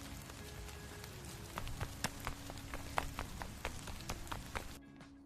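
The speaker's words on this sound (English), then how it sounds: "It started raining now." Light rain falls steadily onto surfaces, with soft scattered drip taps through a quiet, gentle patter that stops abruptly near the end.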